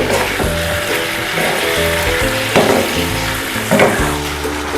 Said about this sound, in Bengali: এবারে আমি খুব ভালো করে কষবো আমি আলু দিয়ে নিই